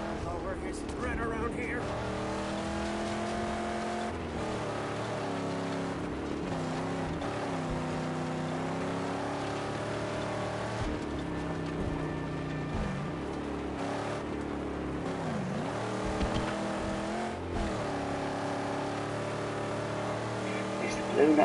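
A spiked car drives in the Mad Max game on PS4, its engine droning and rising and falling continuously throughout, with a person talking over it.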